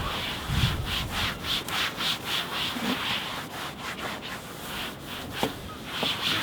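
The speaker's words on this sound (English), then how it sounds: "and then literally rub the top of the board." A microfiber cloth or sponge with a little water is rubbed across the top deck of a bodyboard, making a steady scrubbing swish with rhythmic back-and-forth strokes, close and moderately quiet.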